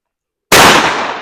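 A single 12 gauge Zveroboy shotgun slug fires at about seven yards on an outdoor range, one sudden loud close blast with a short decaying tail and no talk.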